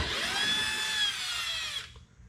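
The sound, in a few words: power drill removing T40 bolt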